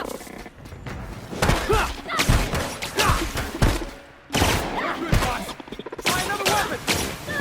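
Gunfire in a firefight in The Outer Worlds, mixed with shouted speech and heavy thuds, a dense, loud burst of shots and impacts running throughout.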